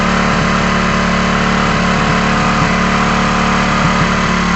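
A Hero HF Deluxe motorcycle engine revs steadily at high RPM, giving a loud, constant buzzing drone close by with no pauses or voices.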